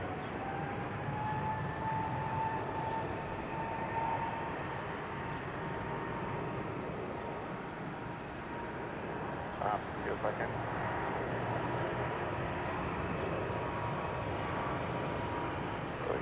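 A Delta airliner departs Salt Lake City International Airport for San Francisco, its jet engines a faint, steady distant roar with a slowly sliding tone, under a quiet background.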